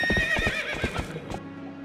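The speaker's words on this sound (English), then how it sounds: "Alright, so you want me to get on the horse and..." A horse in the video game Zelda Twilight Princess whinnies loudly and close with a quavering, wavering call, over a quick run of clip-clopping hoofbeats, with no talking.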